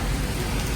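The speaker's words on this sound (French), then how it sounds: "Une belle pluie" Rain falls outside a pastry shop, a dense, even hiss of drops on surfaces, steady and fairly close, with no talk.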